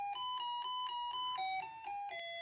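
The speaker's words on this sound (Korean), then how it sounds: "초인종을 눌러봅니다." A doorbell rings with a repeating electronic chime, a series of clear bright notes that shift pitch partway through, close and steady.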